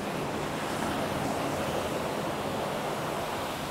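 Sea waves at Agonda beach in Goa wash in as a continuous, even roar of surf, close and full, with no voices over it.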